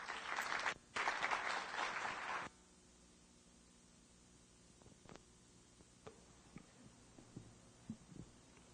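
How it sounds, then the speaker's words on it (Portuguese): A conference audience applauds to welcome a speaker on stage, a dense burst of clapping for a couple of seconds that stops abruptly, leaving quiet room noise with scattered small knocks. "Peço a todos que recebam com uma salva de palmas Alex Coqueiro."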